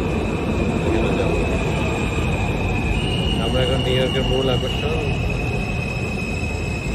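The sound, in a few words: New York subway train arriving at underground station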